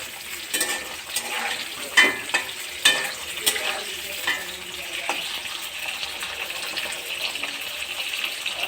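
Onions fry in a pan over a gas stove, a continuous loud sizzle broken by scraping stirring strokes, with no voices over it.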